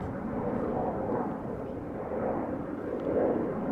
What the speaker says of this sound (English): a departure from center. Looks like another Embraer